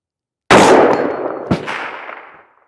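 A single loud rifle shot fired with Atomic Ammo 77 grain match ammunition, a sharp crack with a long ringing decay and a quick echo-like slap, outdoors and alone.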